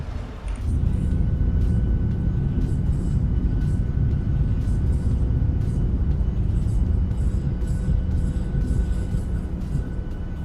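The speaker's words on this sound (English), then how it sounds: "you hear that change as well from me turning the speed brakes" Steady wind and airflow roar on a Boeing 737-800 in flight in MSFS 2020 as the speed brakes deploy, a loud continuous rumble filling the whole clip with a faint tone riding above it.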